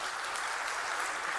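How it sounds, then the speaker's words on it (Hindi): Applause from a crowd at a grand public event with a chief guest on stage in Bhopal, a dense even wash of clapping that holds steady at moderate distance throughout. "एक बार जोरदार तालियां हो जाए"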